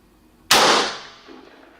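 A single sharp rifle shot fired at a target at night cracks loudly and close, then trails off into a fading echo.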